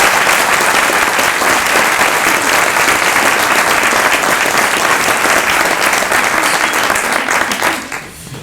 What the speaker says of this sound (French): Donc je crois qu'on peut les applaudir.